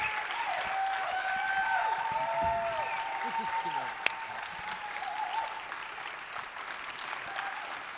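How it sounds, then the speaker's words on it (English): Conference audience applauding data visualization contestants on stage, a broad sustained round of clapping that lasts throughout, with a single sharp knock midway and faint voices and tones mixed in. "Let's give them the biggest round of applause, please."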